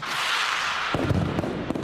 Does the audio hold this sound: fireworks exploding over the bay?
yes